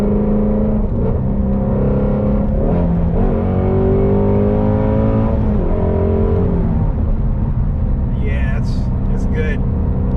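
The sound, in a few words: Ford Mustang Shelby GT350 flat plane crank V8 engine revving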